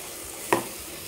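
Onion, tomato, ginger garlic paste and green chilli sautéing in a pan for kootu: a quiet continuous sizzle broken by one sharp stir or clatter, and no talking.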